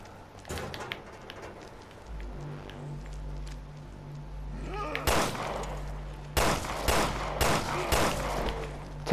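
Gunfire in the video game Resident Evil Revelations 2, with loud bursts of shots and rapid volleys after a quieter stretch and a low rumbling hum, while players talk over the action.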